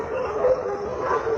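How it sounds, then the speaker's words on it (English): Dogs in a neighbourhood at night barking and howling, a continuous mid-pitched howl with yips running through the whole moment at moderate loudness. "he heard the dogs in the area barking and howling incessantly"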